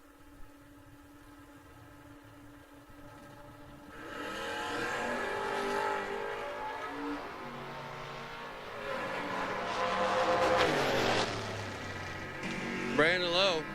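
Brandon Lowe's Mustang drag race car launches down the strip at a Mutt and Jeff Promotions drag race, engine roar building loud and sustained for several seconds, rising toward the end, with no talk.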